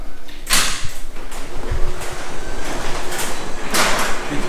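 A door rumbles and rattles as it slides open, with bursts of scraping noise over a steady mechanical hum.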